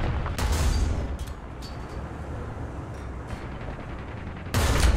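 Loud tank cannon blasts in a tank video game about a Soviet multi-turret heavy tank prototype, one near the start and one at the end, with faint sharper shots and mechanical rumble between.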